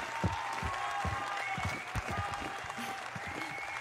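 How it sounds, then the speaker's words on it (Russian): An audience applauds to welcome a stand-up comedian on stage, a steady dense wash of clapping with a few louder near claps standing out, some crowd murmur, and no voice over it. "Прошу поприветствовать аплодисментами"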